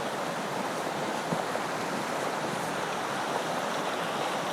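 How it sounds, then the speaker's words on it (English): Steady, broad rushing of the Pecos River in New Mexico, a fly fishing river, its flowing water close and constant without a break, with no voices present. "This is the Pecos River, one of the top fly fishing rivers in New Mexico."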